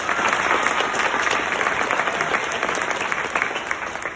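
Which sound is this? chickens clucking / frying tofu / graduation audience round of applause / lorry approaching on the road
graduation audience round of applause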